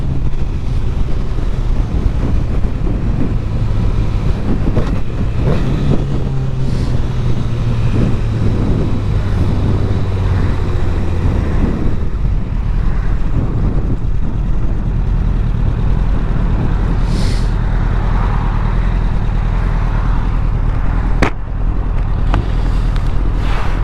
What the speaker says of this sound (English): We can definitely speed on this bike.